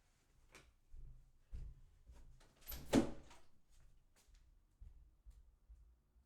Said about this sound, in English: you guys just heard how loud my door is